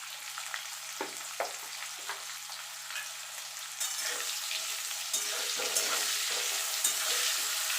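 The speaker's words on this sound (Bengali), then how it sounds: "এবারে এই তেলে আমি আলুগুলো ভেজে নেব" Continuous hiss and crackle of potatoes frying in oil, growing louder partway through, with intermittent stirring scrapes.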